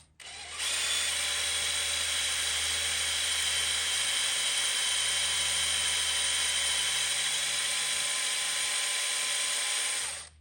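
A handheld drill bores into a metal brake line, giving a steady, close, high-pitched whine that runs unbroken for about ten seconds before stopping.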